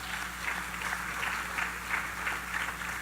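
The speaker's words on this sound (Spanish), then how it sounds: "Aplauda a Cristo Jesús." Congregation applauding during a Spanish-language church sermon, a steady even clapping wash filling the space at moderate level with no voices over it.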